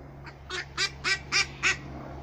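Ducks being fed in Australia quack five times in a steady, evenly spaced run, nasal and close, with a low electrical hum underneath.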